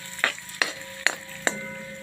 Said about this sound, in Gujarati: થોડું શેકાવા દેશું આપણે।